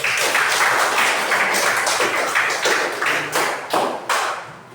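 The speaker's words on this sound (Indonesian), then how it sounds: "Beri tepuk tangan untuk kelompok B" Classroom applause for group B, students clapping in brisk, uneven rounds close by, the claps thinning into separate louder bursts toward the end.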